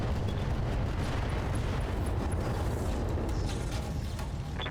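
ATM missiles launching from a mech in the video game Battletech, heard as a rumbling, crackling burst of firing with mechanical rattles, steady and moderately loud with no talk.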